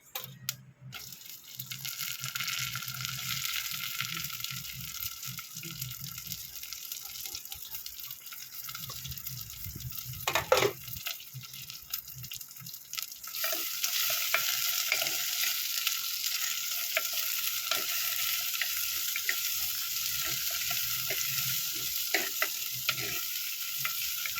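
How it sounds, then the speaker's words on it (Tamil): Sliced onions and curry leaves frying in a pan for a fish curry, a continuous close sizzle that grows louder and denser partway through, with a brief clink in the middle and no voices. "வெங்காயம் நல்லா வதங்கட்டும்."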